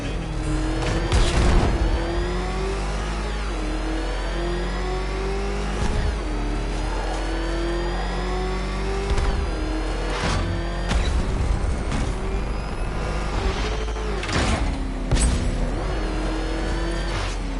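A car engine in Batman: Arkham Knight roars continuously and loudly, revs climbing and dropping in repeated sweeps, with a few sharper bursts of acceleration along the way.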